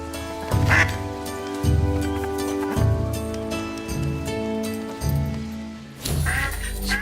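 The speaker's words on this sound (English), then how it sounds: "Oh, let's release the ducks," Ducks in the video game Soulframe quack loudly in repeated, overlapping bursts, several calls following one another close by.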